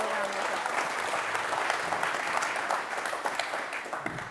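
A conference audience gives a panel discussion on AI at work a round of applause: dense, steady clapping that fills the room for about four seconds and then begins to thin toward the end.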